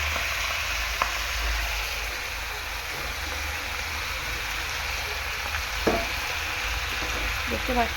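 Bombay duck fish laid over spinach in a hot pan, a soft continuous sizzle with a low steady hum and a few faint clicks of handling, and a brief spoken phrase.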